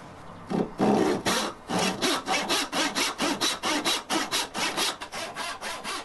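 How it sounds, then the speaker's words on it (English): Hand saw cutting pieces of oak for handles, with a close, loud, steady rhythm of rasping back-and-forth strokes, about a dozen in a row, and no talk. "Here I'm just cutting pieces of oak for the handles"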